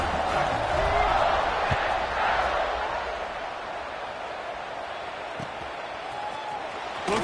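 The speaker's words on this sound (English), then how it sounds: "this crowd is buzzing after that last score" Stadium crowd at a football game keeps up a broad, steady buzz of massed voices, loudest early on and easing slightly, with scattered shouts and claps inside the roar.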